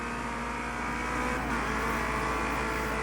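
A race car in the video game Project Cars 2 slides out onto grass, its engine holding a steady loud drone with a brief shift midway, close and continuous without any voices.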